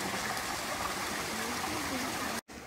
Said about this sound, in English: pretty impressive waterfall, particularly here in the desert in October